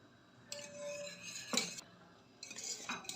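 Metal spoon stirring custard cream in a pot as it cools off the heat, quiet scraping and clinking strokes in a few short bursts, close and faint, with no voices.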